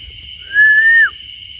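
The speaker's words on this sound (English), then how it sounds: "heard a whistle. I just heard a whistle." A single clear whistle on a dark dirt and gravel trail at night, one steady sustained tone lasting about half a second that dips at the end, heard over a constant high insect-like drone.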